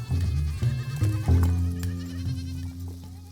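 Goats kept at a sedentary Nama herder's home bleat loudly and close by, several overlapping wavering calls over a steady low rumble.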